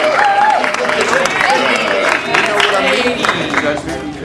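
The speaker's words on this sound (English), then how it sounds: "Let's have a round of applause for Catie McLean and Jerick Johnson" Audience applause fills a talent show hall after a Hamlet scene, a dense steady wash of clapping with cheers and voices mixed in throughout.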